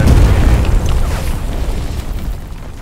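A satchel charge detonates on a tank in Hell Let Loose, a loud, deep boom that starts at full force and fades into a long, rolling low rumble.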